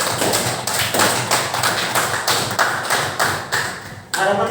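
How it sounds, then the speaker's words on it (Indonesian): Students clapping together in a loud, steady rhythmic beat, close and crowded, with a brief voice rising at the very end. "beri tepuk tangan yang meriah dulu"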